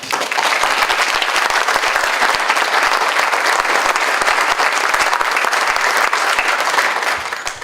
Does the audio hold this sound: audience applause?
yes